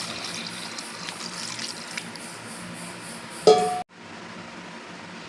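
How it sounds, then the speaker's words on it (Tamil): Water is poured into crab rasam cooking in a pot. A soft, steady simmering hiss carries on, then a brief louder splash of poured liquid is followed by a sudden drop to quiet. "இப்போ வந்து நாம் தண்ணி சேர்த்துக்கலாம் ரசத்துக்கு."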